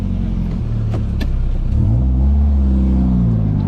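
A car starts moving and drives off, its engine rumbling steadily up close and rising slightly as it pulls away, with faint clicks early on and no talking.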